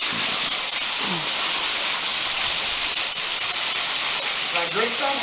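Continuous broad rushing hiss of the waterfall at Ferne Clyffe State Park on an Illinois hiking trail, steady and fairly close, with people talking briefly over the falling water.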